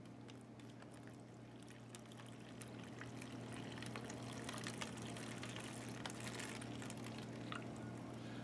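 Lukewarm water trickles and pours into cocoa beverage powder inside a 2018 MRE pouch, a faint steady liquid stream close to the mic.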